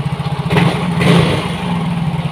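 A Yamaha Soul GT scooter engine idles steadily close by after an ISC idle-speed sensor repair, a low pulsing thrum with slight swells in revs and no talking.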